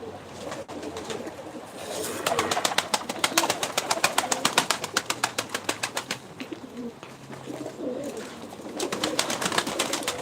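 Pigeons coo and flutter throughout a crowded loft of many birds of various breeds, a dense layer of calls with rapid rhythmic wingbeats rising in the middle, close and fairly loud, with a voice briefly audible.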